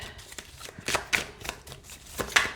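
A deck of cat-themed tarot cards being shuffled by hand: a series of quick, crisp riffling and sliding bursts, close and fairly quiet, with no voices.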